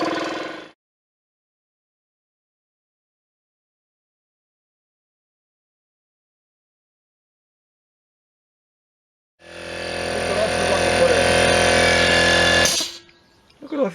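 Air compressor starting up after an intake reed valve repair, a loud steady mechanical hammering drone that runs for a few seconds before cutting off, preceded by a long stretch of silence.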